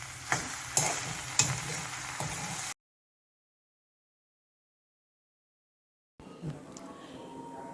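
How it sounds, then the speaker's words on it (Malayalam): Okra (ladies finger) frying in a pan while being stirred, with soft sizzling and a few scraping stirs, fairly quiet, broken by a silent gap before the sizzle resumes. "ഇതിൻ്റെ വഴുവഴുപ്പൊന്ന് മാറുന്നത് വരെ നമുക്കൊന്ന് ഇളക്കി കൊടുക്കാം."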